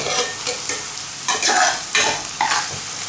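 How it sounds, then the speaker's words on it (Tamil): Vegetables with turmeric sautéing in a pan for a prawn thokku, close and loud: a steady sizzle broken by several rhythmic scrapes and stirs of a spatula, no voices. "இது அப்படியே வதங்கி நிறுத்தோம்."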